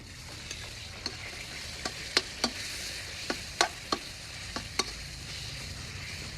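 Chicken wings sizzle steadily in a hot electric pan, with a constant hiss broken by scattered sharp pops and utensil taps, close by and without speech.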